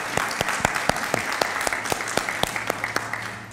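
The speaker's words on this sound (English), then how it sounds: "Can we give her another round of applause?" An audience at a poetry month showcase applauds a poet, a steady patter of clapping with sharp individual claps standing out, fairly close and continuous throughout.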